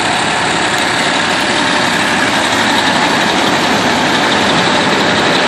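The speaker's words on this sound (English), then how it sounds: "the Colorado Springs Fire Department Truck 10 on scene of a" Colorado Springs Fire Department Truck 10, a fire truck at the scene of a lift-assist call, idles with a loud, continuous diesel rumble and vibration close by, with no voices.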